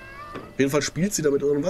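A cat in the video game Hello Neighbor 2 lets out loud, drawn-out meows while someone talks over it in German.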